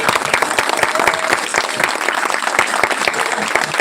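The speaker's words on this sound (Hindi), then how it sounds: "मुझे लगता है कि इस सेशन के लिए तो खड़े होकर तालियां बनती है।" Standing applause for a session at a live event in India, dense and steady clapping from a sizable crowd, loud and close throughout.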